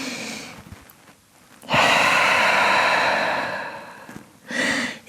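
Deep, loud breaths during a yoga downward dog pose, one long airy exhale swelling after a quieter stretch, then a second breath starting near the end, with no talking.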